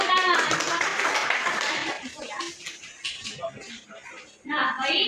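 A university micro-teaching class clapping hands, a brief dense burst of claps up close at the start that fades into scattered taps and movement, with a second short round of clapping near the end.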